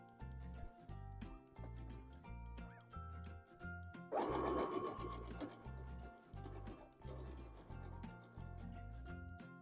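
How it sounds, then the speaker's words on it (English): A sewing machine stitches clover block pieces of a quilt together, its steady rhythmic whirring running throughout, close and clear with a louder stretch midway and no talk. "I'm going to first sew these 2 together."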